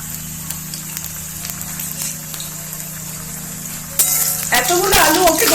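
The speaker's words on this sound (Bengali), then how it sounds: "আর নিয়ে নিচ্ছি একটুখানি সর্ষের তেল। প্রথমে আলুটা ভেজে নিই।" Potatoes fry in mustard oil in a home kitchen, a steady sizzle under a low hum that grows louder and more crackly toward the end.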